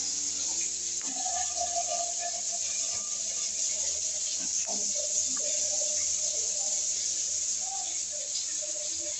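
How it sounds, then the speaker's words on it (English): Water running from a freshly unclogged household shower head, a steady broadband hiss continuing throughout at moderate level with faint background sounds. "the shower is working very good."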